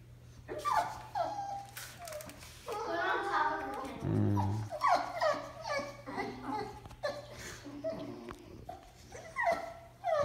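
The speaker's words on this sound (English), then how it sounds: "what you barking at?" A pet dog whimpers, yips and gives short barks and growls close by, mixed with people talking in the room.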